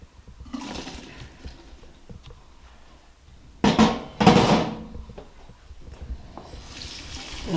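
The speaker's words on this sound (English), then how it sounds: "So now I'm just going to put this in the sink and pour the beans in there." Cooked beans being poured into a colander in a kitchen sink to drain: soft splashing and trickling water, with two louder gushing bursts partway through, then a quieter flow.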